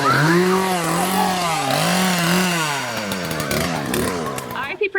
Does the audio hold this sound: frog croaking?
no